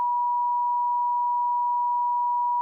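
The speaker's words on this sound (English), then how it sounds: "all you heard was a beep just now, just a long beep" A long, steady electronic beep holds one unwavering tone for nearly three seconds, loud and alone, masking a spoken secret passphrase on a podcast.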